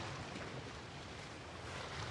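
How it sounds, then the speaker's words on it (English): Water in an anime-style video game, a soft, steady wash of waves or flowing water, faint and continuous for a couple of seconds with no voices. "The water sounds good."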